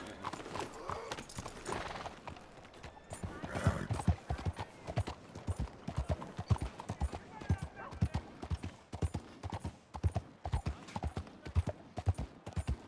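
Horse hooves clopping in Red Dead Redemption 2, a steady rhythmic trot of sharp close impacts running throughout, with voices talking over it.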